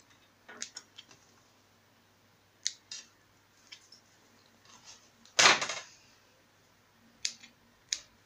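Scissors snip fabric while a pouch is being sewn, a few sparse, sharp clicks and cuts spread over quiet stretches, with one louder, longer snip near the middle.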